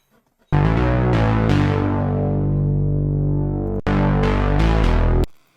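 A deep, sustained analog-style synth bass built in Serum plays loud and thick with a brief dropout and a fade near the end, alone without any voice.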